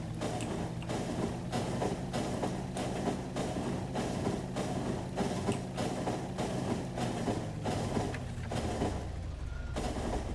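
Trains in the factory-building game Factorio rumble and clack steadily, with evenly spaced rhythmic beats over a continuous low mechanical drone that stays loud throughout.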